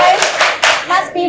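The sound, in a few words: children doing the rhythmic 'tepuk sukses' clap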